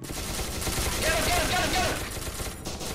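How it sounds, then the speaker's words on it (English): Distant video-game gunfire in SCP rattles as a continuous crackle of overlapping shots under a steady noisy background, with a voice speaking over it. "I hear shooting."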